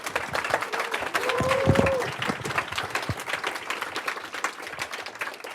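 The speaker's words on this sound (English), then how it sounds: "Please clap." Audience applause at a college cybersecurity club welcome meeting, a steady dense wash of many hands clapping with a few voices, swelling slightly near the middle and continuing to the end.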